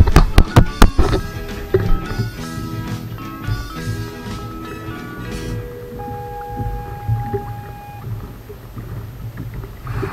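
Warning horn on an offshore platform, a steady tonal blast heard from a distance over boat and water noise, with clatter and knocking near the start.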